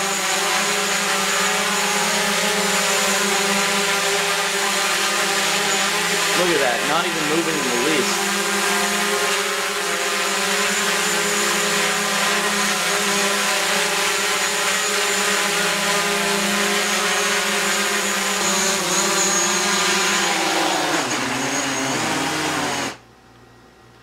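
A DJI Mavic Pro drone hovering indoors, with a loud, steady high-pitched whine and buzz from its propellers that fills the room for over twenty seconds. Someone talks over the noise, and the whine cuts off abruptly at the end.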